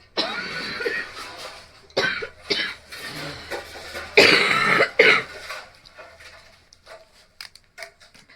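Repeated bursts of harsh coughing from a pregnant woman, close and fairly loud, come in clusters with short pauses, then trail off into quieter rustling.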